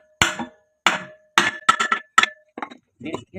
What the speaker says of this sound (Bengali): এবার এটাকে হাতুর দিয়ে বাড়ি দিয়ে বাড়ি দিলেই এটা বেরিয়ে যাবে